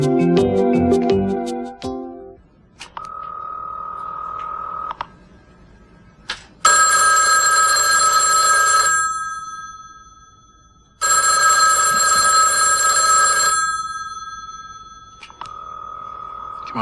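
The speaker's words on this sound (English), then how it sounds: "Come on, kid, answer the phone." A telephone rings in repeated bursts, a short buzzy double ring alternating with longer bright bell-like rings, loud and close, with pauses between rings and no talk.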